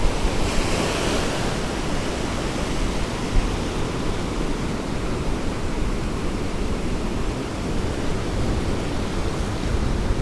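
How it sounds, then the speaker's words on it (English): Ocean surf breaks on the beach at Galveston, Texas, a rough, rolling roar of waves mixed with wind buffeting the microphone, loud and continuous throughout. "Man, the surf is freaking ripping"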